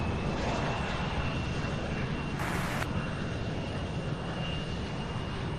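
Delta Embraer E175 regional jet arriving at Louisville airport, a steady, moderately distant engine roar that holds through the whole stretch, with a brief hiss of higher noise partway through.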